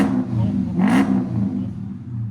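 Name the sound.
2013 Dodge Charger SRT8 6.4L HEMI V8 revving, Jones mufflers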